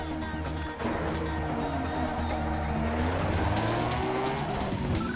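A car drifting downhill in Need For Speed Underground 2, engine roaring loud and close while tires squeal and skid in long sweeping wails throughout.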